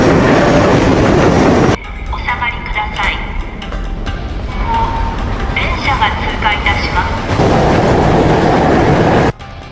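Rumbling train noise at a station, with a heavy low roar that drops away partway through, leaving quieter ambience with faint clatter and squeaks before the rumble returns.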